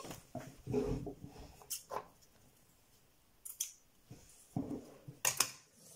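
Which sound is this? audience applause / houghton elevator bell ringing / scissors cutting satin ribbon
scissors cutting satin ribbon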